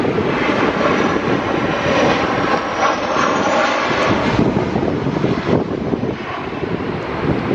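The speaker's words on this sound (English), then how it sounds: "you can hear the power of the engines spooling up again there because of the nose wind" A Ryanair airliner on landing approach at London Gatwick in high winds, its engines roaring steadily and spooling up, loud and sustained, with gusting wind buffeting the microphone.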